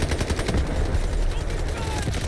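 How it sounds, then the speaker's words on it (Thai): Rapid gunfire from the video game Delta Force crackles in dense, loud bursts throughout, with game effects in the mix. "ยิงอะไรผมเนี่ย"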